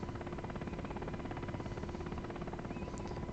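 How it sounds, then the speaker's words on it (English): A helicopter in the DCS flight simulator drones steadily with a continuous engine and rotor hum, with no speech over it. "very forgiving helicopter"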